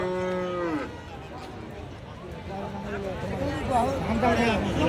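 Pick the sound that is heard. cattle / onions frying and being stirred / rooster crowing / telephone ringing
cattle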